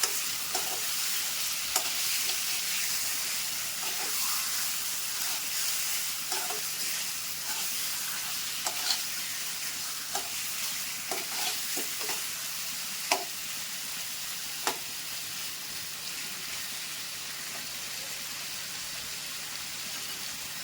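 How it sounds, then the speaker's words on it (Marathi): Chicken pieces fry on a high flame in a kadhai for Maharashtrian chicken sukka, a steady soft sizzle with sharp scrape and clack clicks from stirring scattered throughout, close and without talk. "फास्ट गॅसवर फ्राय करायचं आहे"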